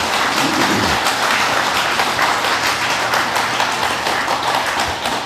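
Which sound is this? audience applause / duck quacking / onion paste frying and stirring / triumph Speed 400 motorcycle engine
audience applause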